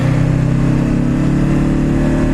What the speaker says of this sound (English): the engine braking can be very strong